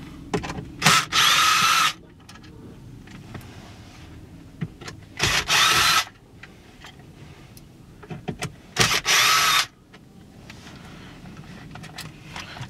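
A power drill backs out the radio screws on a 2006–2009 Volkswagen Golf/GTI/Jetta, giving three loud, close whirring bursts of about a second each, separated by quiet handling noises.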